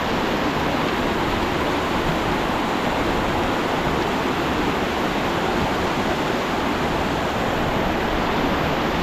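Cold Himalayan meltwater stream running across a trekking path on the way to Vasudhara Falls, a steady, loud, close rushing wash with no voices.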